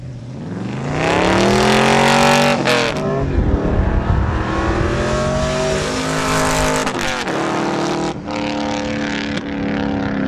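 A Corvette Z06 with launch control and automatic transmission launching in a street drag race: loud engine screams rising through gears with shifts, a rumbling crowd-like burst, then more sustained high revving close by.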